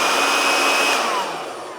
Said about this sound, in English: It's very well positioned to turn the vacuum on and off.